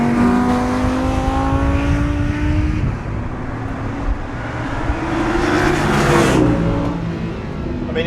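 Lamborghini Huracan engine revving loud and close in a continuous note, the pitch wavering and swelling near the end, with no talking.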